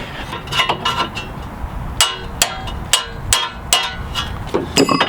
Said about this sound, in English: Then I'll take my pickle fork